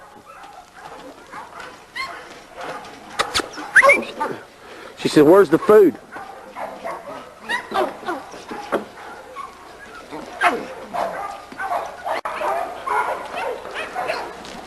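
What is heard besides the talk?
small dog named Sweet Pea barking and whimpering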